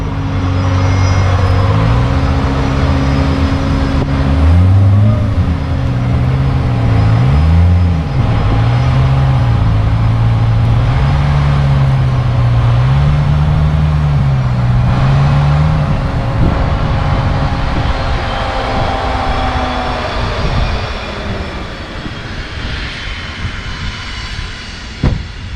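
A Corvette C6 ZR1 fitted with a 2.55 Griptec supercharger pulley runs on a dyno. It gives a loud, steady engine drone with a wavering, rhythmic pitch that holds for about twenty seconds before easing slightly.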